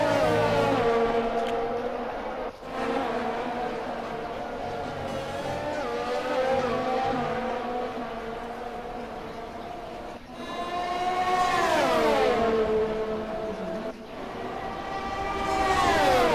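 Formula 1 race cars in the F1 2020 video game scream past with rising and falling engine pitch sweeps, a steady loud engine drone throughout with gear-change dips and cars passing close.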